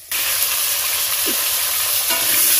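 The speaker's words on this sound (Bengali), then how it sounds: "আলুটা ভালো করে ভাজা হোক" Potatoes sizzle loudly in hot oil with whole cumin seeds in a village kitchen, a steady close frying hiss that carries on alone throughout, with a brief stir partway through.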